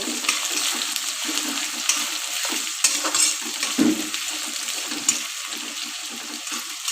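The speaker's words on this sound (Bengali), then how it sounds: "আমরা ভালো করে নাড়িয়ে নেব" Chopped onions frying in hot oil in a pan while being stirred, giving a steady close sizzle with scraping stir strokes throughout.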